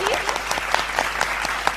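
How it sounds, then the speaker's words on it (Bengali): An audience at a stage singing show applauds in a sustained wash of clapping, with a voice briefly heard at the start. "সাত সুরের সাধনার ভাবনার জন্য কেআরইউ এর জন্য একটা জোরে হাততালি"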